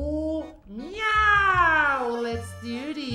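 A drawn-out cat meow from a Roblox game, loud and close, rising then slowly falling in pitch over about two seconds, with steady low background music underneath.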